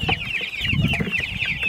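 Laying hens in a farmyard pen cluck steadily and close by, a busy overlapping chatter of several birds that runs without pause and with no talk over it.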